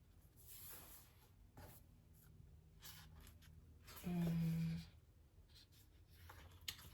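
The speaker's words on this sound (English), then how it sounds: "I kind of want to write in something here" Pen scratching across paper in an Archer and Olive dot-grid journal, soft quiet strokes in short bursts with brief pauses, plus a louder rustle partway through.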